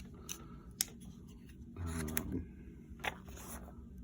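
A Hogue Deca knife with a MagnaCut blade and Ultem handle slices into a shipping package, giving a few quiet, sharp scraping cuts and rustles, faint and close.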